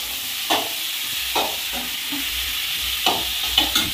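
Ingredients sauté in hot oil in a village kitchen pan: a constant close sizzle and hiss, with a few distinct scraping stirs spaced about a second apart and no voices.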